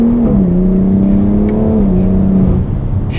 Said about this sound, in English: I'll do a little bit of an acceleration now just to get a feel for it.